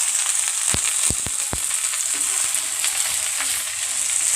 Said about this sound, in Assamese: চিম্পলকৈ ভেন্দি ভাজি বনাওঁ।